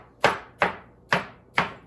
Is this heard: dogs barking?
no